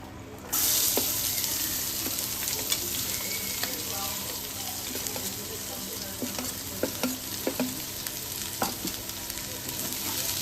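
Onion sautés in a pan with whole cinnamon, cloves, cardamom and fennel seeds, giving a continuous close sizzle. Scattered sharp clicks and scrapes of stirring run over the hiss, with no talking.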